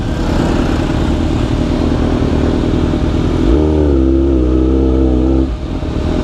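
Heavy road traffic of cars and motorcycles in Pangasinan during the Alay Lakad walking pilgrimage fills the air with a constant loud engine wash, and one nearby motorcycle revs up and holds a rising drone midway before fading back into the traffic.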